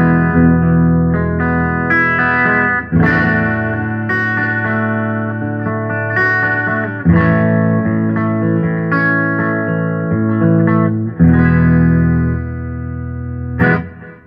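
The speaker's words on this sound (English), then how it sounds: "So here's our clean tone chords." Electric guitar strung with DR Veritas strings, playing clean-tone chords that ring and sustain in a slow strummed progression with light effects and some reverb, full and close with no talking.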